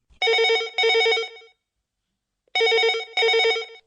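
A telephone rings in two classic double bursts, each bright trilling ring separated by a pause of silence, close and clear.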